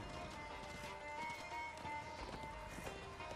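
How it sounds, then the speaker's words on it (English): A horse gallops in the Darksiders II video game, its hooves beating a fast, steady rhythm over a background game score. "despair is obviously my horse"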